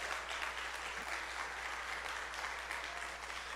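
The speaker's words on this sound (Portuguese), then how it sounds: "Pode aplaudir o Senhor." A church congregation applauds, a dense, even wash of clapping from many hands that holds steady and fairly distant for a few seconds, with no speech over it.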